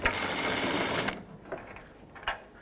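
A power tool spins out a T45 bolt on a 2008-2010 Ford F-250 tailgate, giving a close, steady whir for about a second, then faint clicks and brief taps.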